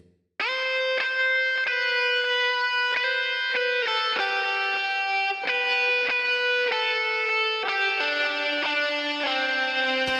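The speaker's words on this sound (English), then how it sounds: "And then the harmony guitar goes like" A distorted electric guitar plays a sustained harmony line, notes changing every second or so, loud and continuous.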